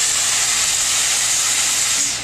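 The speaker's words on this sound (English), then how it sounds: "which will allow you to steam the floors." A Therma Steem 1.5 steam cleaner releasing steam for floor cleaning, a loud, steady close hiss lasting the whole moment before easing off slightly at the end.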